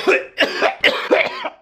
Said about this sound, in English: It means I cough a lot.